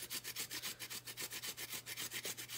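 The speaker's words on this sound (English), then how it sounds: "And over here I'm grating it." Fresh ginger root being grated by hand, a quick steady run of about twenty rasping strokes, close and even in rhythm, with no talking.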